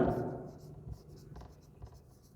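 A pen scratches out a sentence on a board in short, faint strokes, with quiet scraping bursts near and close after a fading voice.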